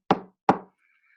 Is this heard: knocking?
yes